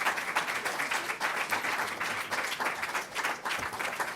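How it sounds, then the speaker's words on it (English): A crowd applauds warmly, dense clapping that swells and holds steady for several seconds, fairly close and loud. "Let's bring him on with a warm round of applause."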